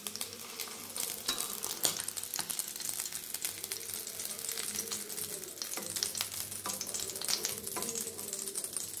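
Egg frying in hot oil in a pan, a continuous soft crackling sizzle with scattered sharp pops, fairly quiet and close, no talking.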